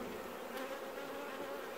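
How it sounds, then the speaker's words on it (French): Honeybees swarm and buzz around their hive on a stormy, sunny day, a dense steady drone that holds close and constant with no talk. "Les abeilles sentent quand même que c'est orageux, vous voyez là, elles sont beaucoup plus agressives qu'à la dernière visite"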